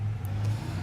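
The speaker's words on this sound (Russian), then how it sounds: "Извиняюсь за шум автомобиля на улице" A car passing on the street outside an open window, a faint, steady low engine rumble heard through the room with no talking.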